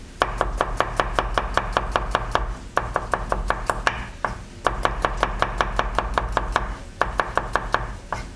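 Onions are chopped on a board with rapid, steady knife strokes in fast even bursts, pausing briefly between runs, loud and close with no talk.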